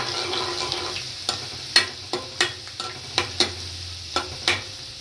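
Garlic frying in refined oil while a spoon stirs it in a pan, giving a steady soft sizzle broken by a series of light scraping taps at an uneven rhythm.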